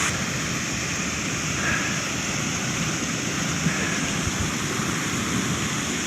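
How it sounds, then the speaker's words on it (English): Sea waves roll in on a rocky beach beneath crumbling cliffs, giving a loud, continuous broadband wash with no pauses and no voices. "The sea is coming in."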